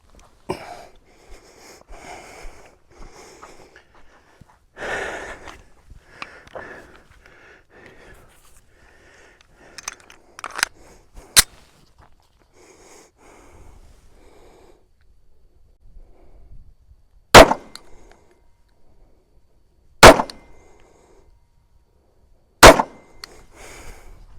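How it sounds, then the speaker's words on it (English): Three sharp, loud gunshots from a Stoeger STR-9 9mm pistol firing 115 grain rounds at a target 7 yards away, spaced a few seconds apart after a stretch of quiet handling noise. "We're gonna go back 7 yards and fire a 3-shot group at that 3-inch shoot and see how it shoots."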